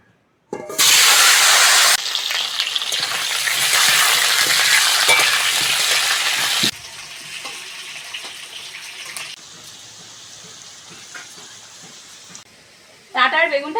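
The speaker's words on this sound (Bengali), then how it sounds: "ওই তেলের মধ্যে আলুগুলো ভেজে নেব" Potatoes hit hot oil in a loud, close burst of sizzling that roars for several seconds, then settles into a softer steady crackle, with a brief clatter at the end.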